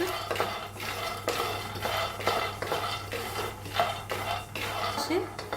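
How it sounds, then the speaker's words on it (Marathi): Peanuts dry-roasting in a pan, rattling and clinking as they are tossed with a spatula in quick repeated strokes, close and fairly loud. "शेंगदाणे पहिले भाजून घेऊया, चांगले शेंगदाणे भाजून घेऊया करपूस।"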